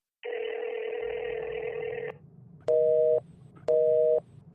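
A phone line answers a redial of a non-existent number with a long steady tone, then two short identical beeps after brief pauses, clean and close.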